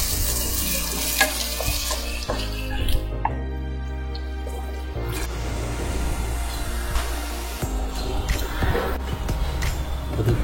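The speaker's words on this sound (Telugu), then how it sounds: "అల్లం వెల్లుల్లి పేస్ట్ కూడా పచ్చివాసన పోయేదాకా వేగనివ్వాలి" Ginger garlic paste frying in a pan, a steady loud sizzle with stirring and occasional scraping throughout, with no one speaking.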